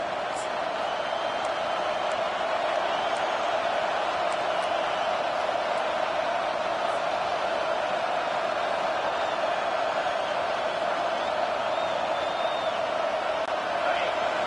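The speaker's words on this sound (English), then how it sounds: "Decibels rising as the crowd gets behind this defense on 3rd down." Football stadium crowd cheering as the defense lines up on third down, a loud, unbroken roar of massed voices with scattered whoops, steady over the whole stretch.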